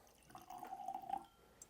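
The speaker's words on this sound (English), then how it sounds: "That was maybe a slight heavy pour." Four Roses 2025 Limited Edition bourbon is poured into a glass, a faint, brief liquid trickle lasting under a second in a quiet room, with no talk.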